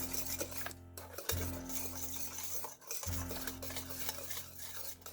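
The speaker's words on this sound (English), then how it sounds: "Give it a mix." A spoon stirs fruit cake batter with salt, baking powder, nutmeg and cinnamon in a bowl, producing continuous close scraping and mixing with brief pauses.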